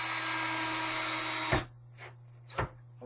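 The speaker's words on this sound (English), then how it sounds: "Jackson's not a big fan of the screw gun." A screw gun drives a screw into new door hardware with a loud, steady high whine that cuts off sharply after about a second and a half. Two brief, softer bursts follow as the screw is snugged in.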